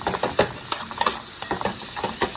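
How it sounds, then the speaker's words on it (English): Peppers and onions sauté in a pan with a steady close sizzle, broken by repeated soft scrapes and stirring taps. "we're gonna saute this up until it starts to develop a nice little color"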